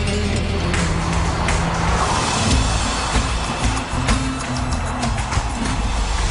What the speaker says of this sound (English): Two super fast laps show Ghosn how the Porsche performs.